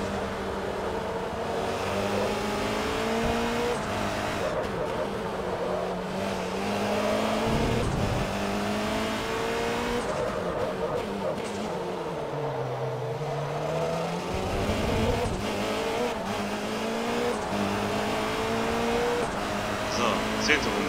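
Race cars in Forza Motorsport 3 during a Class R1 World Championship race give a continuous engine drone that rises and falls with gear changes, with an opponent's car passing close by. A voice talks over the engines.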